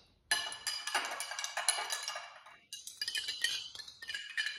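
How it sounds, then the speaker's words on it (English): Large two-inch ice cube set into a glass, giving close bright clinks and rattles of ice against glass followed by a lingering ringing tone, then more clinking as it settles. "I've got another large 2-inch cube of ice. I'm gonna just kind of set that in the glass."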